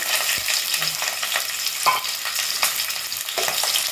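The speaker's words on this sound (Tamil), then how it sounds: "வெண்டைக்காய் எண்ணெயில் அப்படியே ஃப்ரை ஆகும்" Okra frying in hot oil, a loud continuous sizzle with a few light stirring clicks from a utensil, close up and without any voices.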